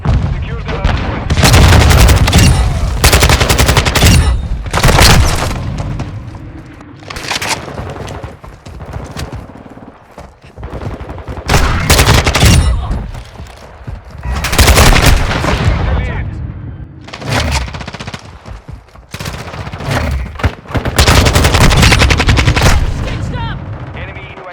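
Modern Warfare 2 multiplayer combat: a Semtex grenade blast among dense bursts of rapid gunfire, loud and repeated in clusters throughout, with shouted in-game voice callouts mixed in.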